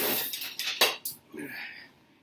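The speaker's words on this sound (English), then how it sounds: "I don't know why I really need a whisk for that, but I want to make sure it's whisked, mixed up well" A whisk clatters against a bowl while mixing an onion mixture for onion smothered brisket, several quick metallic clinks and scrapes, then a softer stir fading out.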